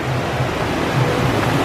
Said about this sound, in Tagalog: Malakas. Malaki yung river niya. Malakas yan. Yung agos ng tubig.